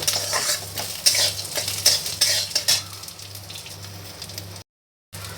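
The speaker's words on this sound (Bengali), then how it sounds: "তো কালো জিরে রসুন আমার ভাজা ভাজা মতো হয়ে গেছে" Black cumin seeds and garlic frying in a pan give a steady close sizzle, broken by several sharp spoon scrapes and clinks against the metal. The sound cuts out briefly near the end and then resumes.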